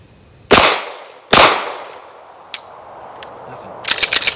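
Pistol shots from an HK VP9 at a shooting range: two loud, sharp cracks about a second apart, then a fainter pop and small clicks, and a quick burst of lighter impacts at the end.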